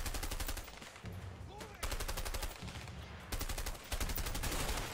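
Rapid bursts of gunfire in the video game A Way Out, including a shotgun, come in three loud stretches of fast repeated shots separated by brief lulls, close and harsh.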